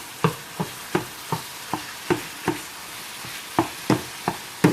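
Ground turkey fries in a pan for dirty rice while a meat stirrer works through it, a dozen crisp scraping strokes in a steady rhythm over a soft sizzle, close and clear.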